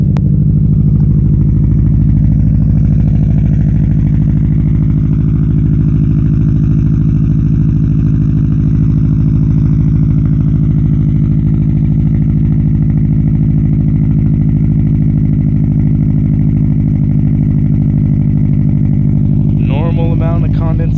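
A motorcycle engine idles while warming up, a loud, close, steady thrum that holds an even pace throughout, with a short clattery rattle near the end.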